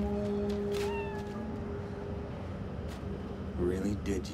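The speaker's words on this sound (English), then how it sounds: "It's a very sad looking kitty cat." A sad-looking cat in the video game Cyberpunk meows in a drawn-out, wavering cry, followed by a few shorter mews over steady game ambience.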